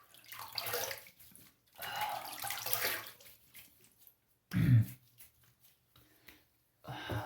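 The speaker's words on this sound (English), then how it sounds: "Some cold water to wet the face" A bathroom tap runs cold water in two short splashing bursts as the face is wetted before a shave, each gush fairly close and loud, followed by a brief clunk and quiet pauses.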